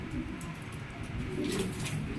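Pigeons, including Damascene and checker birds, coo softly and repeatedly at a pigeon farm in Gazipur, a low, throaty burbling close by, with light background noise.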